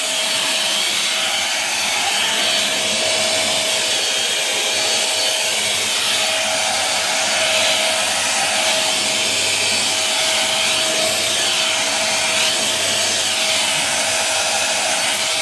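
A Merlin 2-in-1 vacuum cleaner runs steadily throughout, a loud close motor whine with a constant high tone and broad airy hiss, no breaks and no talking.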